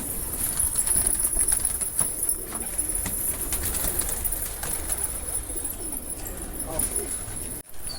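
Around eighty-five pigeons at a loft in Okhla take off and circle, producing a busy flutter of wings with faint cooing and rustling, fairly close, under occasional background voices.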